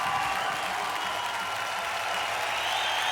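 Crowd cheering and applauding steadily at the finish of an Australian Gladiators race in a 1995 television arena, a dense wash of noise held throughout without letup.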